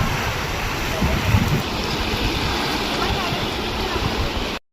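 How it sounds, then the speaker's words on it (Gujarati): Outdoor rushing water from a flowing river, a steady broadband wash that stays loud and close for the whole stretch, then cuts off abruptly near the end. "અને પાણીનો અવાજ એટલો સરસ આવે ને, જો તમને ધ્યાનથી પાણીનો અવાજ સંભળાવું."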